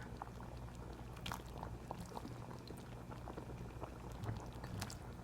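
Thai green curry with eggplant starts to boil in a pot, a faint, steady bubbling and popping with scattered small clicks, no talk.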